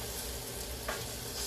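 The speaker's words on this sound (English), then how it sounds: "Let me stir my squash here again so we don't burn any parts of it." Squash fries in a pan with onions and is stirred, giving a faint, even sizzle with a soft scrape from the utensil partway through.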